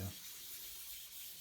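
Sandpaper wet sanding the painted body of an ST-style guitar kit, a faint, steady hissing rub with a soft bump at the start; quiet and brief, no talking.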